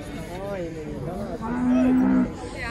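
Cattle at a livestock market in Karakol let out a drawn-out moo over a steady background of market noise, with a few fainter lowing sounds before it.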